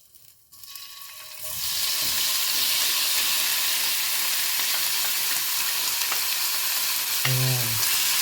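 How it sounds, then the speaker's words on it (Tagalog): Chicken breast hits hot cooking oil and erupts into a loud, continuous sizzle and crackle that holds steady, with a brief stirring scrape near the end. "So, maglalagay na tayo ng mantika, no? Ilagay naman natin yung ating chicken."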